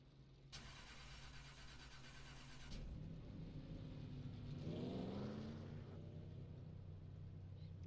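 A race car engine in the iRacing NASCAR game at Phoenix holds a steady low drone that rises into a revving surge partway through, with another engine tone layered on top.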